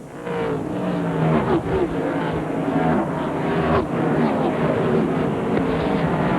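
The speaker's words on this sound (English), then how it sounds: "You see the trucks going down the backstretch again." NASCAR SuperTrucks from 1995 racing down the backstretch at Evergreen Speedway, a steady loud roar of several engines running together with no break.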